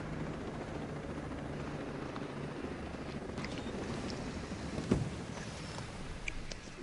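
A helicopter lands in the video game Ghost Recon Breakpoint, its rotor and engine making a steady broadband whir that holds constant throughout, with a brief thump near the end.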